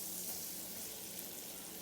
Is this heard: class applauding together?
no